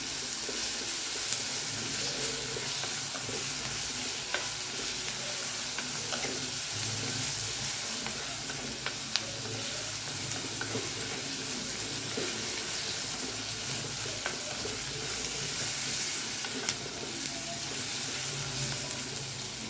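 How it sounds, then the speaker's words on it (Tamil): Steady sizzling of beetroot and vegetables frying in a pan, a continuous hiss with occasional soft crackles and stirring scrapes, close and fairly even throughout. "நல்லா வதக்கிக்கலாம்"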